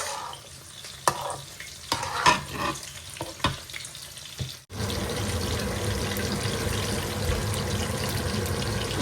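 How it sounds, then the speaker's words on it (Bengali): Sticky rice being fried in a pan with ghee for Sylheti biran: a few scattered stirs and scrapes give way halfway through to a steady, dense sizzle that stays loud and close. "এই বিরানোর লগে লগে ঘি দিলাইমু।"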